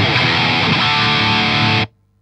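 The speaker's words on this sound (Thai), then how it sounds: "โอเคกลับมาเสียงแตกครับ" A heavily distorted electric guitar chord rings out loud and thick for under two seconds, then cuts off abruptly into silence.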